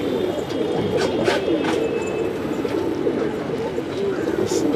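Pigeons coo in low, soft, repeated murmurs, several birds overlapping continuously at close range, with occasional faint higher chirps.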